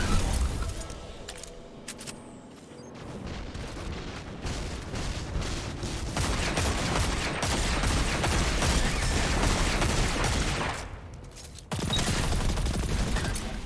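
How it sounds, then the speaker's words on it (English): Rocket launcher fire and explosions against a Minotaur in Destiny 2, heavy booming blasts rolling into a dense, continuous barrage of combat noise with a brief lull near the end. "I figured I'd just rocket that Minotaur while it wasn't rushing me"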